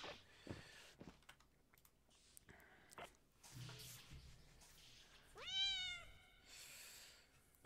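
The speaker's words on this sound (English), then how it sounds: "Where's their fucking cat?" A cat in the Space Station 13 game gives one clear, rising meow amid soft computer keyboard typing and clicks, close and fairly loud against a quiet background.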